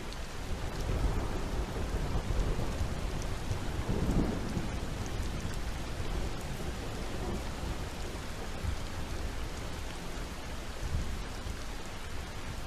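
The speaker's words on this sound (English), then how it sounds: "savoring the soothing music of the rain and distant thunder" Continuous steady rainfall with a soft, low rumble of far-off thunder swelling early on, no voices.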